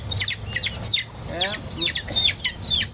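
Chickens of various breeds, including laying hens and native fowl, cluck and squawk repeatedly at a roadside poultry stall, in close, lively bursts with rustling and faint background noise.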